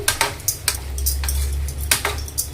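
A spoon stirs cut okra pieces with salt and turmeric in a pan on a gas stove, giving irregular light metallic scrapes and clinks against the pan over a low steady cooking hum, close and alone.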